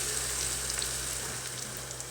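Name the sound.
paratha frying in oil in a saucepan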